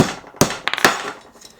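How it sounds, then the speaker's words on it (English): A hammer strikes a steel ball bearing to press-fit it into a mechanism, giving a few sharp metallic whacks, two hard hits with lighter taps between, close and loud. "give it a bit of a whack with the hammer"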